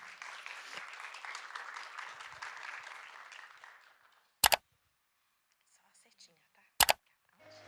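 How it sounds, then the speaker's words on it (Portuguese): Audience applause at a talk, a burst of clapping that fades out after about four seconds, followed by two sharp, loud isolated clicks in near silence. "Por favor, aplaudam a doutora Lie."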